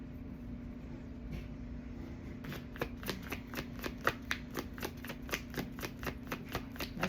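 Tarot cards shuffled by hand, starting as faint rustling, then a quick regular run of crisp riffling snaps, close and fairly quiet over a low steady hum.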